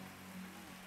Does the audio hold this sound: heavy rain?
yes